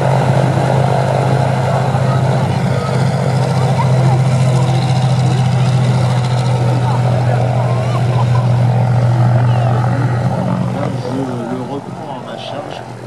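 Douglas DC-3 propeller airplane at an air show in Cholet, a loud steady droning engine roar held throughout and fading near the end, with someone speaking French over it.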